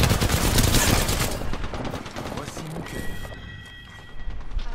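Weapons fire in a shooting video game: loud, rapid bursts of gunfire, then quieter mechanical clicks and a thin ringing tone, with a voice faintly mixed in.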